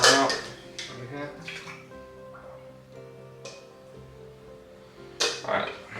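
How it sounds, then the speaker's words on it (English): Water splashing out of a coffee brewer after rinsing the filter, a few sharp pours and clinks of glass or ceramic over a low steady hum, with a voice speaking softly in the background. "Let's get dump this water out over here."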